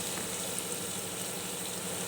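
Onion frying slowly in a pan over a low gas flame makes a soft, even crackle and hiss, close by and continuous, with no one talking.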